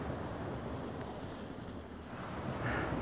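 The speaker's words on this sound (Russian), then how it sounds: "По морю уже слышно, да? Что я прямо на берегу." Sea surf washing onto the shore at Alushta beach, a steady broadband wash of waves with gusting wind buffeting the microphone, continuous and fairly loud with no voices.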